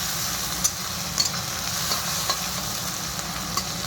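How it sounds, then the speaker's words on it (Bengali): Onion and green chillies frying in a pan, a close, steady sizzle with occasional light stirring taps and scrapes, no voices. "পেঁয়াজ কাঁচা লঙ্কাটা একটু লাল লাল করে ভেজে নিই।"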